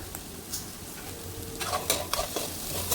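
Chicken kothu idiyappam being stir-fried in a pan: soft, steady sizzle with light scraping and clicks of a spatula against the pan, fairly quiet, no talking.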